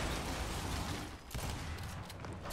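Gunfire in the video game Gears 5, a dense burst of rapid shots that carries on with a brief dip in the middle, loud and close with no talking over it.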